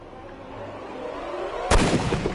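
Gunshot fired in the video game Sherlock Holmes Crimes and Punishments: a single loud, sharp report cuts in abruptly, followed by a short rumbling tail over a low game ambience.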